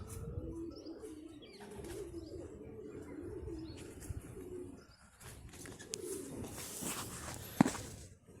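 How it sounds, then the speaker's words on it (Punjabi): Pigeons settle after a flight of high-flying birds lands, giving soft cooing and occasional chirps amid steady outdoor background noise, with a few faint wing flaps. "ਦੂਜੇ ਕਬੂਤਰ ਸਾਰੇ ਬੈਠ ਗਏ"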